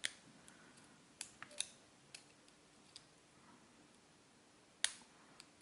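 A Yale-type keyway Santul padlock is picked, faint close metallic ticks and clicks scattered irregularly, with a sharper click near the end.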